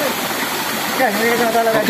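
The Jukung waterfall at Nanga Mahap in West Kalimantan gives a steady, rushing roar close by, with a person briefly talking over the flowing water.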